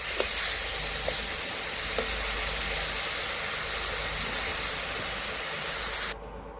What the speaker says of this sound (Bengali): এখন আমি খুরপি দিয়ে এভাবে নাড়াচাড়া করে একটু লাল লাল